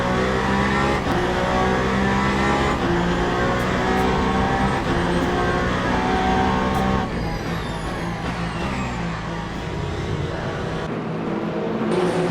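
A race car in the Le Mans Ultimate video game accelerates out of a slow corner at Bahrain, its engine revving loud and close with rising gear pitches and a brief tire squeal, steady and without talk.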